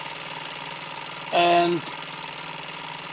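A homemade engine built in 1977–78 to a Popular Science Monthly design from around 1962 runs with a steady, rapid mechanical clatter. A short voiced word cuts in briefly over it.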